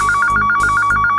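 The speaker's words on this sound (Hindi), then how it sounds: "फोन आया।" A telephone bell rings in rapid repeated trills, two bursts of clear electronic ringing separated by a short gap, loud and close with no talking over it.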